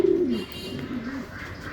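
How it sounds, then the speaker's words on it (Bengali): Pigeons in a loft coo nearby, one loud rolling call up front followed by softer, fainter coos over a quiet background hum. "মনে করলাম একটু লফটে গিয়ে দেখি কবুতরগুলো কি করছে।"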